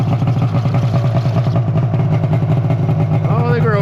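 An old Arctic Cat Firecat F6 snowmobile engine runs at a steady, fairly high rev, a loud close drone with a rapid pulsing beat throughout and a brief rising whine near the end.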